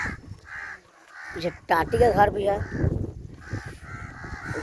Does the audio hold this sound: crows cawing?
yes